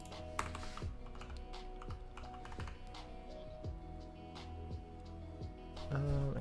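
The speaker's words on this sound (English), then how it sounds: "typing that in chat" Computer keyboard keys clatter in quick irregular bursts, a steady close-up typing run with sharp clicks spread across the whole stretch and no voices.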